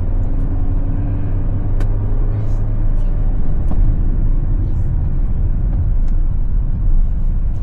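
A 2025 Kia Sonet SX automatic pulling in 2nd gear after a downshift, a steady low engine and road rumble heard from inside the cabin, with occasional soft clicks and a person talking over it.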